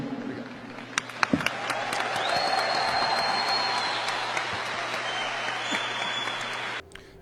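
An audience applauds a Brazilian communist party member, a broad, even patter of many hands swelling and holding steady for several seconds before cutting off abruptly.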